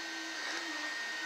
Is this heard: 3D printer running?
yes